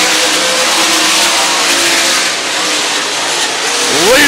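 Sprint cars race through lap traffic at State Fair Speedway, a dense wall of engine roar filling the track with a rising whine as a car passes near the end, loud and continuous.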